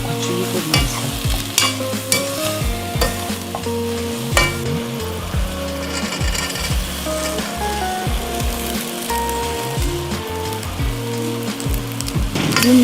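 Shishito peppers cooking in a frying pan for a Korean vegetarian side dish, a continuous close sizzle broken by repeated scraping and clattering strokes of stirring.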